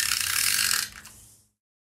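A handheld adhesive applicator run along paper boxes, giving one short, close ratcheting rasp that weakens partway through and stops after about a second and a half, heard alone.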